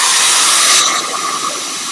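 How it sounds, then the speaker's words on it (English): A hair dryer blows loud and steady at close range, its broad rushing hiss easing slightly partway through before holding at a constant level, with no voices. "I'm going to hair dry it."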